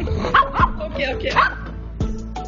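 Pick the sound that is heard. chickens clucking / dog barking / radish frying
dog barking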